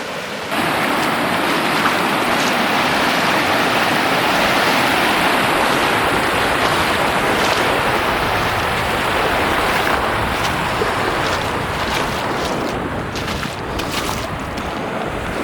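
A farm creek swollen after a flood rushes continuously in a dense, steady roar, mixed with gusty wind buffeting the microphone and no talk.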